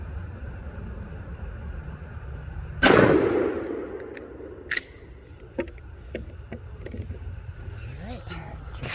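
A single loud shotgun blast firing a Nitro turkey load at a 30-yard range, sharp and close with a decaying tail, followed by faint clicks and handling noises.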